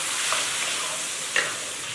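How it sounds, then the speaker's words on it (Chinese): Pork belly stir-fried in a wok with red and green chili peppers, garlic and sauce, giving a steady close sizzle and hiss with a couple of brief scraping stirs of the spatula, no talking. "然后就把青红线椒倒入锅内，翻炒至辣椒出香味了"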